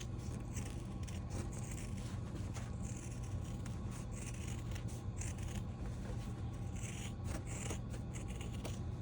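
Scissors snip and scrape steadily around the edges of a quilted fabric mug rug with stabilizer, a soft continuous crisp cutting texture close up over low background hum, with no talking.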